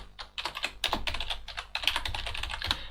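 Fast, uneven typing on a computer keyboard while writing code, dense clusters of crisp key clicks close by, with brief pauses between bursts.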